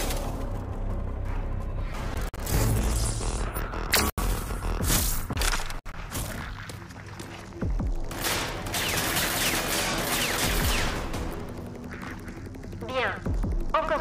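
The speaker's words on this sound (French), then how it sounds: "Utilisez la barrière pour vous protéger de cette simulation de tir ennemi." Simulated enemy gunfire in the shooter game Rage 2, with dense bursts of rapid shots, cracks and whooshes crowding most of the stretch, loud and close, broken by brief gaps, with a voice speaking over parts of it.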